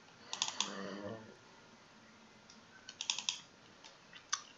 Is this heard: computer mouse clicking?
yes